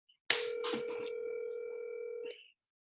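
A telephone call being placed: a steady electronic ringback tone holds for about two seconds after a brief click, loud and clear with no talking.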